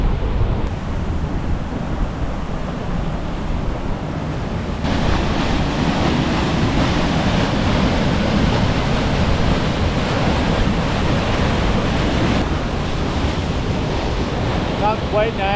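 Steady rushing water from a small waterfall in Muskoka on a fall day, a broad continuous roar mixed with gusting wind buffeting the microphone throughout, fairly loud and unbroken.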